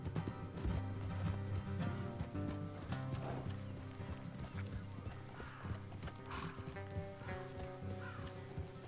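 Horses trotting in the video game Red Dead Redemption 2, with hoof clip-clop and an occasional whinny beneath a steady layer of game music, fairly faint throughout.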